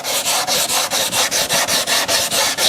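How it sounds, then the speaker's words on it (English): Rhythmic strokes of a hard sanding block with 100-grit paper on damaged table veneer, about a dozen even back-and-forth rasps, close and loud, with no talking. "I'm taking my hard block and a little bit of 100 grit, and just we're going to block sand these areas"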